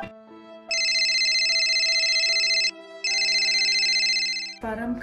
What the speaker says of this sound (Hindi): परम का फोन।